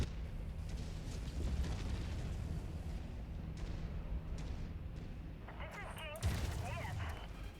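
A mech in a combat video game firing at a hostile mech target: repeated heavy booming shots and blasts over a dense rumbling background, with a voice talking over the action.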